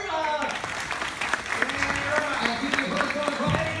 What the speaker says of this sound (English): Now, a round of applause for Irma